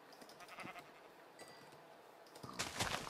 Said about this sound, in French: Un petit mouton, un truc comme ça.